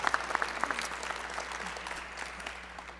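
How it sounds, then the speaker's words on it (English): A town-hall style audience applauds, a few distinct claps up front blending into a fuller wash of clapping that gradually thins and fades. "They deserve a round of applause."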